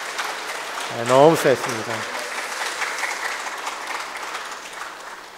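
A church congregation gives the choir sustained applause after a cantata, a steady wash of clapping throughout. Someone speaks briefly over it near the start.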